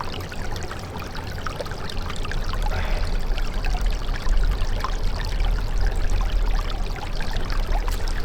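Spring water trickles and pours steadily at a mountain spring near the top of a 1400-metre peak in Yeongwol, Gangwon Province. The flow sounds close and constant, with splashy bursts and no voices.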